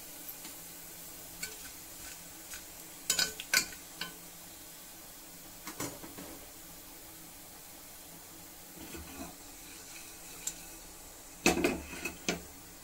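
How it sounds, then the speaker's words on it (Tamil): Fennel seeds, bay leaf, cinnamon, cardamom and cloves fry softly in hot oil in a pan for a chickpea gravy, giving a faint steady sizzle broken by occasional clinks and scrapes of stirring. "இப்போது இந்த சோம்பு, பிரியாணி இலை, பட்டை, ஏலக்காய், லவங்கம் இது எல்லாத்தையும் இதில் சேர்த்துக்கலாம். நல்லா பொரிஞ்சு வரட்டும்."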